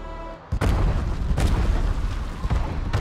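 Loud booming explosion from a video game, a sudden broadband blast followed by rumbling debris and further bursts, dense and close throughout.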